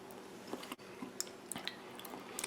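Chewing on crispy chicken with a big chunk of carrot and mushroom, soft, moist bites and faint squishes close to the mouth, only a few light crackles, no talking.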